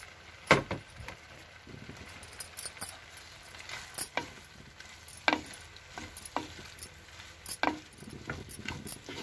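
Capsicum sizzles in a hot pan while a utensil scrapes and stirs, giving irregular clinks and taps over a low, steady frying crackle.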